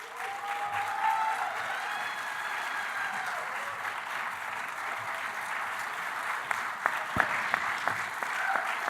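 Conference audience at a Rotary Club of Ann Arbor gathering applauding in a sustained, even wave of clapping, with a few sharper individual claps standing out near the end.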